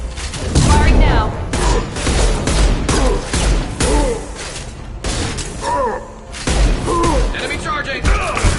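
Rapid gunfire bursts from a Mass Effect 2 firefight crack out loud and close in several clusters, mixed with thuds and impacts while voices speak over the action.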